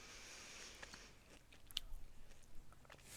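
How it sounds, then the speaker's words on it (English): A Smartie candy is chewed close to the mic in soft, irregular bites and faint crunches, quiet throughout. "I'm chewing a Smartie from earlier."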